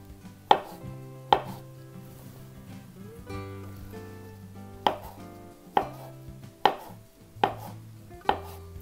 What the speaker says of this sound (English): And just gently slice down.